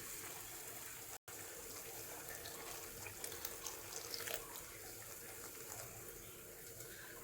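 Water runs steadily from a tap into a cooking pot of okra curry, a continuous gushing hiss, broken by a brief dropout, then pouring on with slight splashes.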